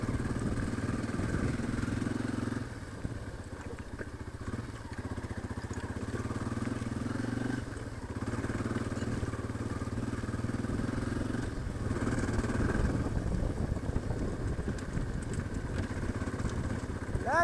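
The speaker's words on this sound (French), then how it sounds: "le quad n'a pas assez de garde au sol. Donc ça tape dans la couronne et dans le disque derrière" A quad bike grinds through deep, high-ridged 4x4 ruts on a Moroccan desert track, its engine droning loudly and steadily throughout with rough clatter and surges, underside knocking against the ground.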